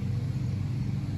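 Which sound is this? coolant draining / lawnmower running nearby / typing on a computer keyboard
lawnmower running nearby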